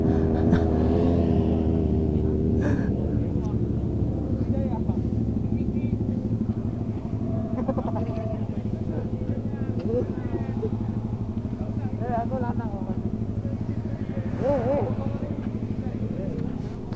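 Four-cylinder motorcycle engine revving hard and droning continuously and loudly throughout, amid a crowded street gathering for an Indonesian Independence Day ride, with voices and other vehicles mixed in.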